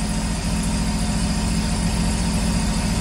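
A Sea-Doo boat motor idles steadily, a dense, constant low rumble with even vibration that holds unchanged and close throughout, with no voices over it.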